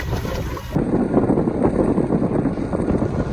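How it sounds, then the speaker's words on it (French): Strong squall wind gusts of around 30 knots buffet a sailboat under engine power on a stormy, rainy day, a loud continuous roar of wind and water rushing past steadily without letup. "On vient de se faire prendre par tout un grain, là. Des rafales à 30 nœuds."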